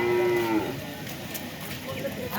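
Calves and cattle at a rural livestock market in Natore, with one clear mooing call near the start over a noisy background of market crowd murmur.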